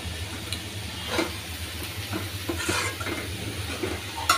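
Helencha greens frying in a pan give a soft, continuous sizzle, broken by a few quiet scrapes of stirring over a low background rumble.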